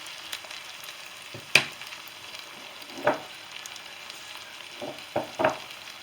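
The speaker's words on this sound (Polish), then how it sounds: "Grzybki lądują na patelni. Grzybki wylądowały. Mieszamy to" Wild mushrooms fry in a pan for a scrambled-egg dish, giving a quiet steady sizzle broken by several louder scraping stirs, with no talk.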